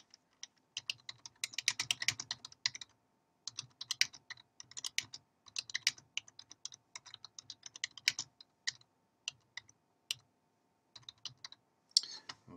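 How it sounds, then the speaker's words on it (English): Quick bursts of typing on a computer keyboard, light clicking keystrokes in uneven runs with short pauses between them, close and quiet, with no talking. "you can type in the rest of your message then"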